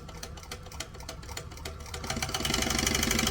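A sewing machine back stitches a small crossbody bag at a 2.5 stitch length, a steady rapid mechanical clatter that grows louder and denser toward the end.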